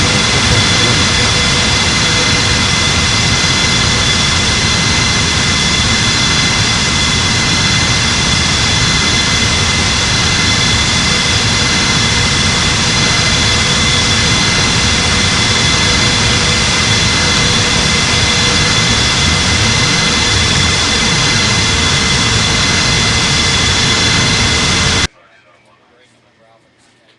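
Jet airliner engines roar loud and continuous during takeoff at a busy airport for about twenty-five seconds, a dense broadband rush with steady whining tones, then cutting to near silence.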